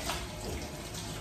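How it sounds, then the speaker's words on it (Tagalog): Water from a kitchen sink tap running steadily while a cleaning rag is rinsed under it, a soft, continuous broadband splashing that stays fairly faint throughout. "heto nga nilaban ko ulit itong basahan"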